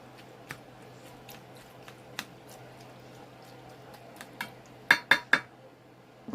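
Cooked macaroni noodles being spread out in a pan, with soft scraping over a steady low hum, then a quick run of three louder metallic clinks of a utensil against the pan near the end.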